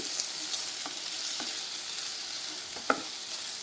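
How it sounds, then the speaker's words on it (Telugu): Peanuts and green chillies fry in a pan with a soft, steady sizzle, broken by a few scraping stirs and one sharper clink near the end, with no one speaking. "ఇలా ఇవన్నీ కలిపేసి బాగా ఫ్రై చేసుకోవాలి"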